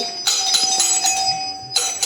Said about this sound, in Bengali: আরে কলিং বেলটা নষ্ট হয়ে যাবে।